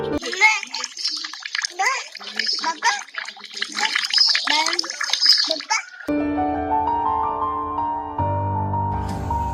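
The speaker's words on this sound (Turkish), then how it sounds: "Şehidin eşi çeşme başında suyla oynayan kızının eğlencesini kaydediyor." A little girl plays with water at a fountain, splashing and trickling under her chattering voice for the first part, followed by a steadier running-water wash with a faint tonal hum.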